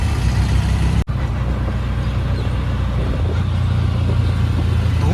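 Steady, close road rumble from inside a moving auto rickshaw in Rajasthan, with engine drone and traffic noise continuous throughout apart from one brief dropout.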